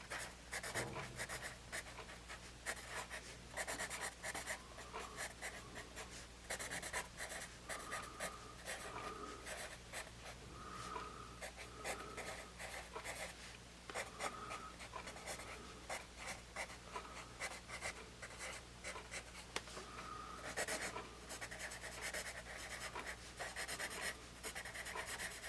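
A Paper Mate Mongol 480 #2 pencil writing on paper: a continuous close scratchy rasp of graphite strokes in short bursts and longer runs, with no talking.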